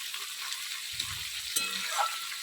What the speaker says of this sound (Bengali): বেশি ভাজবো না হালকা হালকা ভেজে নেবো